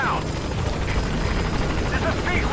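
A support helicopter in a video game thrums steadily and loudly, its rotor chop constant throughout with a buzzing whine overhead, while a voice talks beneath it.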